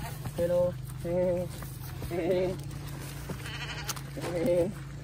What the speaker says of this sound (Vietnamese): Đây nhiều dê đấy